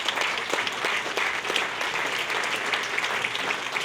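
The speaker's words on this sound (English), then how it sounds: "I think he needs a round of applause." A dinner audience at a chamber of commerce installation applauds, producing moderate, steady clapping that continues evenly throughout without fading.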